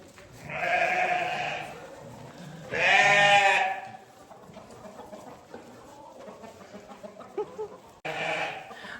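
Hungry sheep bleating loudly at feeding time in a barn stall, several long wavering calls from close by with short gaps between, and quieter rustling and shuffling in the pauses.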